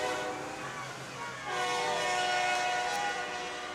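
A train passes near a high school football stadium during a night game between St. Henry and Anna, its horn sounding in long sustained blasts over the rumble of the cars, fairly loud and steady, with faint crowd noise behind.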